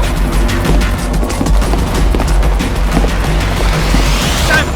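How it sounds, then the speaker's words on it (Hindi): Loud, dense gunfire bursts in a Hollywood action movie dubbed into Hindi, a continuous rattling fusillade with booming hits filling the whole stretch. "अरे गोली चली, भागो।"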